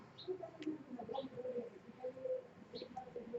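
Birds call in a quiet outdoor setting: a pigeon gives soft, low repeated coos, with a few brief higher chirps scattered through the short stretch.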